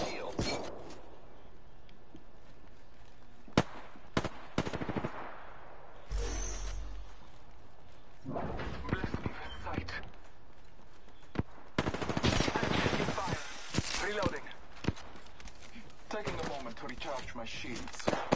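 Video game gunfire arrives in scattered bursts of rapid shots, loud and close, mixed with game sounds and a voice talking now and then.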